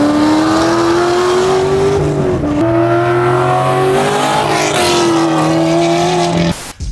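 Mercedes-AMG car engine revving loudly and close, with a steady harmonic drone that rises and falls across several throttle changes before cutting off sharply near the end.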